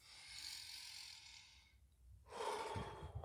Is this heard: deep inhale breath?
yes